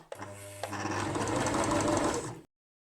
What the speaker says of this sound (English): the harder you press on this thing and the faster your sewing machine goes